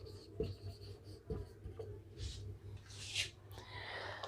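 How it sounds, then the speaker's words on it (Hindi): Pen writing out maths questions on paper or a board, soft scratchy strokes and taps spread through the stretch, faint and close over a low steady hum. "1-2 क्वेश्चंस ऐसे ही और लिख देता हूं कि क्वेश्चंस लिख रहा हूं"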